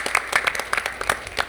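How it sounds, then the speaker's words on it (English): Brief applause at a school board meeting honoring the finance department, a modest scattering of hands clapping in a room, fairly close and uneven. "A round of applause."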